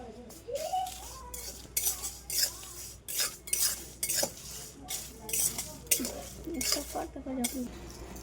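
Cumin seeds dry-roasting in an empty pan over low flame, stirred with a utensil that scrapes and clinks against the metal in irregular bursts, with faint voices in the background.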